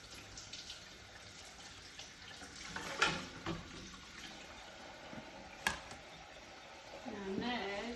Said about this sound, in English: let's wash that off again